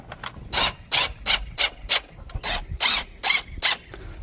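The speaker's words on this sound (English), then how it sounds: "I can screw it into the wall." A sprinkler controller box being screwed into a wall, heard as a rapid series of about a dozen short, harsh grinding bursts close by, loud and evenly spaced, with no talking.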